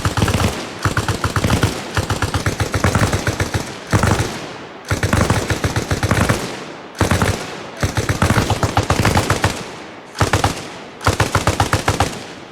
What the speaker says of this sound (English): Have your boy lay down suppressive fire.